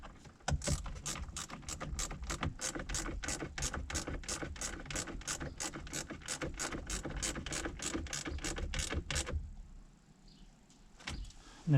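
Brake controller bolts on a Ford F-150 being snugged down with a ratchet, giving a long steady run of rapid, even clicks close by that stop abruptly, followed by a brief quieter stretch and a final knock.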